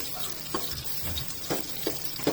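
Tomatoes are sautéed in a pan with ginger for shrimp sinigang, giving a faint steady sizzle broken by a few soft scraping stirs, with no talk.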